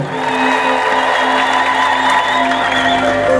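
A festive Silte crowd ululates and cheers in a dense, continuous wall of sound, with high trilling voices sustained throughout and no pauses.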